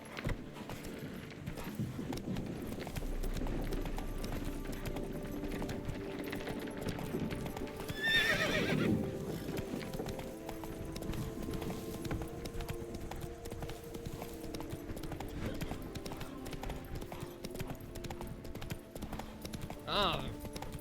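Roach, a horse in the Witcher 3 video game, gallops with rhythmic hoof clip-clops across a long stretch, including a loud neigh partway through, while a voice speaks occasionally over the hoofbeats.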